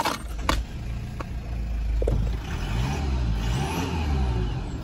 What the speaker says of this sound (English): As a diesel engine should sound, which is good.